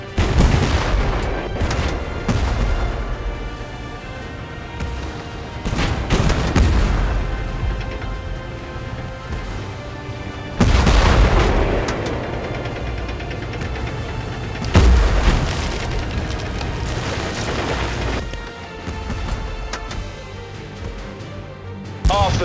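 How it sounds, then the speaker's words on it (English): Repeated cannon blasts and explosions from tank combat in the mobile game War of Tanks, loud booming bursts at irregular intervals over a dense, continuous battle din. "We are under gunfire!"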